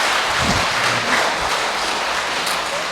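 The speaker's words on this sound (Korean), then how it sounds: "큰 박수 부탁드립니다" An audience at a marriage mentoring lecture gives a steady round of applause, clapping filling the room evenly for a few seconds.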